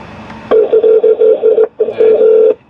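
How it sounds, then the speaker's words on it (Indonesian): A Hyundai Creta's BlueLink SOS emergency call connects inside the car: loud, regular electronic ringing pulses repeat in bursts with a short gap between them. "Ini sedang menghubungkan ke layanan darurat."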